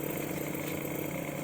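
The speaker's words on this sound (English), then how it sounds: "Now you see the compressor is working. Its motor is working, its piston is working," A reciprocating compressor runs steadily with its motor and piston working, giving a faint, even mechanical drone with no talk.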